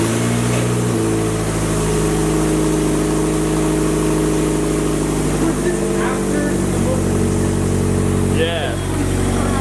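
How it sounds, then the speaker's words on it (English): A Nissan S14 with a rough-running engine cranks over and starts, then idles and is revved a few times, loud and close, with a voice briefly heard near the end. "Let me actually start it up and let's give some revs."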